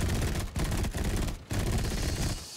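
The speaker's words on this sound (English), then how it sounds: "And with these offensive heavy machine guns, it's going to be nice." Heavy machine guns firing from a fighter plane in Battlefield 5, a loud, sustained rattling burst broken by two brief pauses, filling the clip with no talking.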